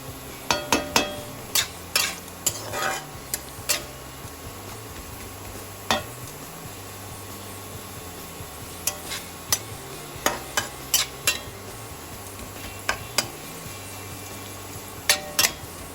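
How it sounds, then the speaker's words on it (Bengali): Ginger fries in a pan for a vegetable chowmein, a soft steady sizzle broken by sharp scraping and clinking strokes of a spatula against the pan at irregular intervals. "আস্তে আস্তে ভাজা হয়ে যাচ্ছে আমার আদাটা"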